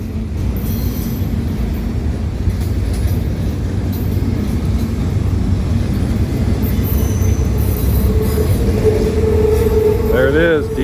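A long freight train with a distributed power locomotive rolls steadily past up close, a loud continuous rumble of wheels and engines with a brief squeal near the end.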